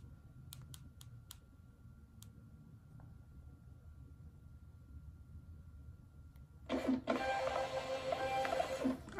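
An Offnova Bluetooth thermal printer runs in a quiet room, a few faint clicks giving way to a steady, close mechanical whir and feed noise over the final few seconds.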